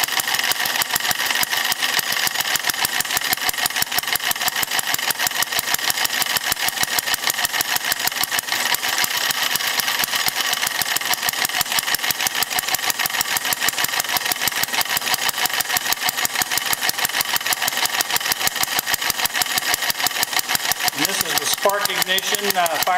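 Vertical single-cylinder four-stroke spark-ignition engine running under load, a steady, rapid, even chuffing beat at constant pace, close and moderately loud throughout, with a brief change in tone near the end.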